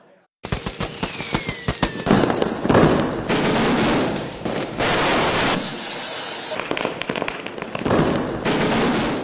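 Rapid, loud bursts of Diwali firecrackers in Chennai crackle and pop continuously, with sharp overlapping bangs close by and a brief whistling rise early on.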